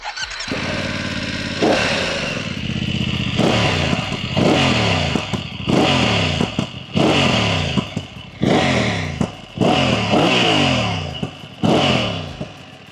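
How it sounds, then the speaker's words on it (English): A 2025 BMW F 900 GS parallel-twin adventure motorcycle fitted with an Akrapovic exhaust is revved repeatedly in dynamic mode, roughly seven sharp throttle blips rising and dropping back to a raspy idle, loud and close. "it's a very raspy exhaust note that only eggs you to twist the throttle more"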